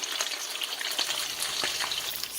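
Fish frying in hot oil gives a steady dense sizzle with small crackles and pops throughout, close up and with no voices.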